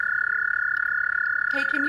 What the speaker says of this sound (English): when the toad croaks like that.